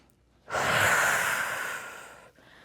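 One long, breathy exhalation during a dynamic stretching and mobility workout, close and fairly loud, swelling quickly and then fading over about two seconds, with no talking.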